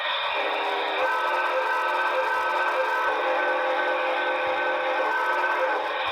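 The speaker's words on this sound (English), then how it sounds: "This is my backup whistle." A backup steam train whistle blows one long chordal blast, steady and fairly loud, with a slight pitch shift partway through and no voices over it.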